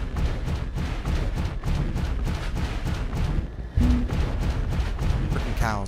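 Rapid gunfire in Scrap Mechanic, a dense run of sharp repeated shots hammering a player's base, loud and close with a brief heavier impact partway through.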